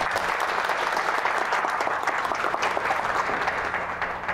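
A seminar audience claps to welcome a speaker, the steady applause of many hands sustained and fairly loud throughout, with no voices on top.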